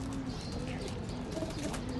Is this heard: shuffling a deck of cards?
no